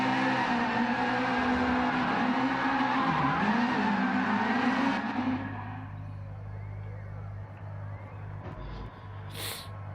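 Race cars doing tire burnouts at Kyoto Driving Park before an EVO versus WRX league final: loud sustained tire squeal and revving engines that fade after about five seconds, leaving a lower idling hum with a faint voice.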